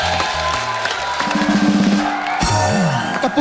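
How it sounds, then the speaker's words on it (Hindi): A studio audience on a comedy talk show breaks into sustained applause and cheering, a dense steady roar of clapping and whoops with music and voices mixed in throughout. "सर इसके लिए खड़े होकर ताली बनती है"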